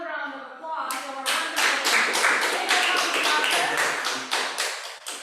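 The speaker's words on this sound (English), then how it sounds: "let's give another round of applause" An audience at a Toastmasters-style club meeting breaks into applause, rising quickly into dense, sustained clapping that carries on for several seconds after a brief spoken introduction.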